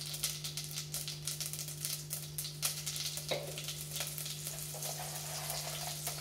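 Curry leaves hit hot oil for tempering a millet bisibelebath and set off a steady, close crackling sizzle that runs throughout over a low constant hum.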